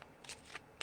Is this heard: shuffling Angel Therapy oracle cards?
yes